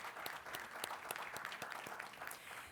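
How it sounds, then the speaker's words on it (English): Sparse, faint applause from a small audience at a fall summit session, a handful of distinct claps spaced unevenly rather than a dense wash, heard alone without talk. "Let's have a round of applause,"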